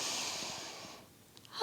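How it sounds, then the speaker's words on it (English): A slow, deep breath drawn in and let out during a beginner yoga pose, close and soft, trailing off into quiet with a small sound at the end. "And the breath is deep."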